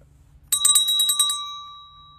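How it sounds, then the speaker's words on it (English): Small hand bell rung at a sickbed at home, a bright metallic jangle of rapid strikes lasting about a second, then a clear ringing tone that slowly fades, close and loud with no talk. "here's a bell. But ring it and we'll come out and get you whatever you need."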